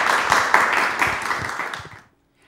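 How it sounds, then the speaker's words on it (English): A TV studio audience claps for a young child, a dense burst of applause that holds steady for about two seconds before cutting off abruptly. "Let's give him another round of applause."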